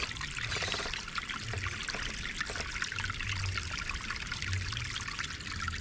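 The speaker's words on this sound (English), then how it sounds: "Trailer's filling up with water." Water pouring and trickling into the trailer of a small RC truck on an outdoor trail, a continuous soft babbling flow heard alone at low volume.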